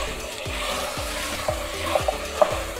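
Meat sizzles in a pot with a tablespoon of garlic paste while being stirred for Afghani Kabuli pulao, a steady frying hiss broken by regular scraping strokes of the spoon and a few sharp clinks near the end.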